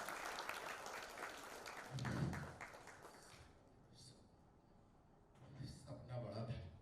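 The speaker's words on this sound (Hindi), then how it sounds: "ताली होनी चाहिए" An audience claps at a trailer and poster launch for the film 'Taanashah'. The applause is fairly faint and swells briefly, mixed with crowd noise and voices in a large room.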